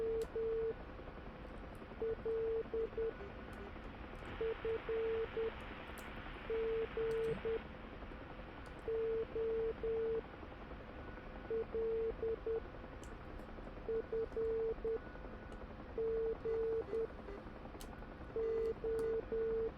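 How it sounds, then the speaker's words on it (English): Morse code navigation beacon tones from an ADF beacon in the DCS UH-1 Huey flight simulator, a steady pitched tone keyed in short repeating groups of dots and dashes over a constant background hiss, with no talking. "And now we have the current Morse code."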